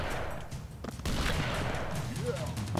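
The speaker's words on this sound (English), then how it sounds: "I like his shotgun, it's pretty effective." Shotgun fire in the retro action game Broforce, dense blasts and explosions piling into a loud, continuous barrage with a voice talking underneath.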